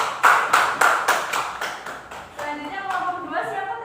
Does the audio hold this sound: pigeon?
no